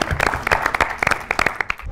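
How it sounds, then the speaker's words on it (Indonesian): Short burst of clapping from a studio audience at a televised national-knowledge quiz show, sparse enough that individual hand claps stand out in an uneven, lively rhythm. "Tepuk tangan lu dong untuk anak-anak ini."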